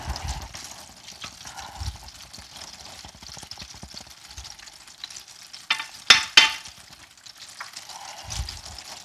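Apple fritters fry in hot oil over medium-high heat, giving a quiet, steady sizzle broken by crackles, utensil stirring and a couple of sharp clatters near the middle.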